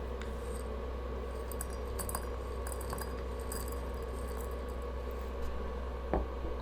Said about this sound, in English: I'm gonna put some dry leaves in here